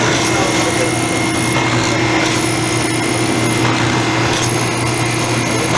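A square drill bit bores into wood for a slant-front china cabinet, giving a steady, loud grinding whir that runs continuously and dominates the scene without any talk over it.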